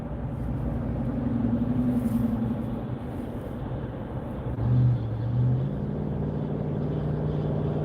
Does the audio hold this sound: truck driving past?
yes